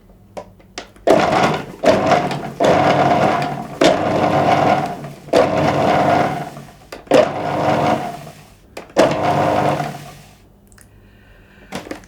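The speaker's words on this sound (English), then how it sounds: "I'm going to pulse the flour and the butter together until it turns to breadcrumbs" Food processor pulsing flour and butter into breadcrumbs for sweet lemon tart pastry, giving five or six loud whirring bursts of a second or two each, separated by short pauses, with no talk over it.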